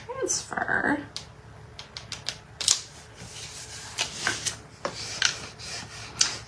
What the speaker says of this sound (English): We're gonna burnish it in.